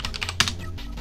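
Quick, irregular keystrokes on a computer keyboard, typing letters into a CICS COBOL fill-in form on an MVS mainframe terminal, with one sharper tap partway through; close and clear, with no talking.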